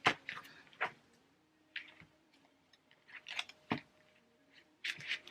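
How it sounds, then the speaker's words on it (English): Several brisk papery riffles and slaps of tarot cards being shuffled, in short bursts separated by quiet pauses, close up with no talking. "let me put them back in and shuffle."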